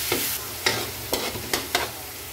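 Garlic and onion sautéing in a pan for pork pochero, a constant sizzle broken by about five sharp stirring scrapes at roughly half-second intervals, close and fairly loud.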